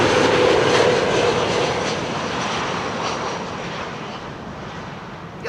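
A Transavia passenger jet in the older livery rumbles past at Amsterdam Schiphol Airport, a broad steady engine roar that slowly fades as it moves away, loud and continuous with no voices.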